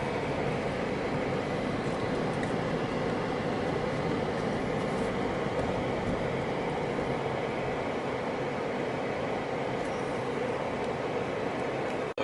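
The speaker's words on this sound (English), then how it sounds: "We got a BNSF train in the foreground and a Union Pacific double stack up on the Terminal Railroad Association bridge." A BNSF freight train rumbles past on the tracks near a Union Pacific double-stack train in St. Louis, a steady, dense roar of rolling wheels and cars that holds constant throughout.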